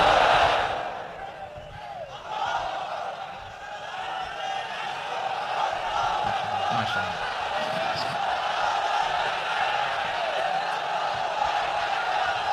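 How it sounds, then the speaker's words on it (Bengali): A large open-air crowd at a sermon chants the takbir, a broad roaring mass of voices swelling after a brief quieter dip and holding loud and sustained. "তাকবীর পড়ুন, লিল্লাহি তাকবীর।"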